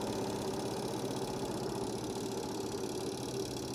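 Motor of a washing machine's spin dryer running in a repair workshop, its drum reportedly not spinning properly, giving a continuous close mechanical hum with a fast rattling pulse and no voices.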